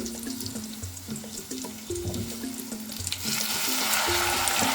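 Sizzling and bubbling from a hot pan of raw mango pieces, with a steady hiss that swells louder near the end as water goes in, close and continuous.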